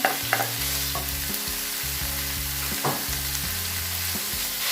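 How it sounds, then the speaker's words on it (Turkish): Ground beef, 250 grams, frying with sautéed onions in a pan: a steady, loud, dense sizzle throughout, with occasional stirring scrapes and a faint rhythmic hum underneath. "Kavrulan soğanımın içerisine 250 gram kıymamı da ilave ediyorum."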